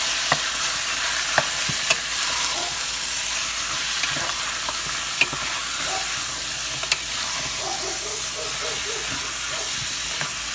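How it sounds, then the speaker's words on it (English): Beef frying in a stew pot while being stirred, a continuous dense sizzle and hiss with small scraping and clinking stirs throughout, close and steady for the whole stretch. "now I will add the beef. I will throw it in. Give it a good stir."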